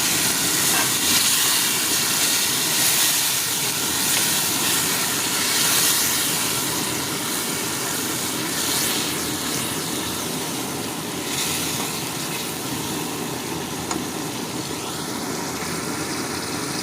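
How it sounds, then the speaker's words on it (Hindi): Marinated chicken added to browned onions in a pan for Eid chicken karahi gives off a loud, steady sizzle and hiss that runs without a break, with faint stirring scrapes and no voices. "ये अब हम चिकन डालेंगे इसमें, जो हमने 1 घंटे पहले मैरिनेट किया था"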